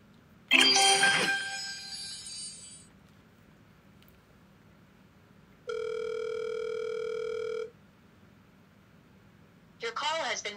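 A telephone line after the caller hangs up gives a steady electronic tone of about two seconds mid-clip, preceded by a burst of voice-like sound and followed by a brief voice at the end.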